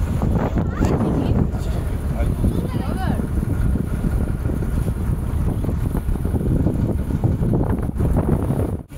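Strong wind buffets a boat on the water in the Sundarbans at high tide, a loud continuous rumbling roar with gusting surges throughout.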